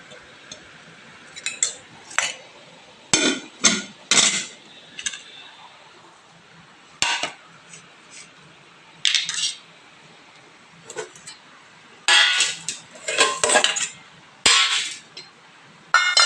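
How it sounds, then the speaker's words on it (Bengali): White rice is served onto a plate with a spoon, giving scattered, sharp clinks and scrapes of cutlery against dishes, close by, separated by quiet gaps. "প্রথমে নিয়ে নিয়েছি একটা প্লেট অ্যান্ড খাবারটা বেড়ে নেব।"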